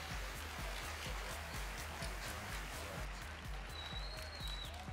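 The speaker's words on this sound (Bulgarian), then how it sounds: "невероятно успорно на вълнуваща среща, която заслужи вашите аплодисменти" An audience at a fight arena cage event applauds and cheers in a faint, distant, steady wash of crowd noise, with a low rhythmic thumping underneath throughout.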